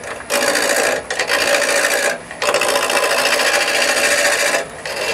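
Wood lathe cutting a screwdriver handle blank held on a spur center with the tailstock: a loud, continuous rasping cut in three long passes, broken by two brief pauses, with no talk.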